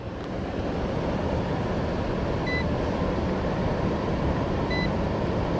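An American Standard HVAC system's blower runs steadily, a constant broadband rush of moving air with a faint pair of short high beeps partway through.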